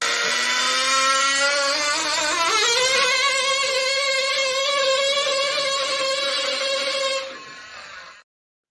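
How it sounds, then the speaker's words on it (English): A 6-pound tabletop pulling tractor strains under a sled load of roughly 200 pounds, its small engine giving a steady, loud, high whine that rises in pitch early on, holds for several seconds, then drops away near the end. "That 6-pound tractor was pulling like 190 pounds, 200 pounds plus the sled."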